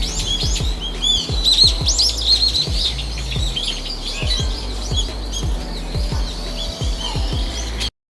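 Many birds chirp and tweet in a busy, overlapping chorus at a bird sanctuary in Bonal, Surpur, Yadgir district, North Karnataka, with sharp repeated calls near and farther off; no talking.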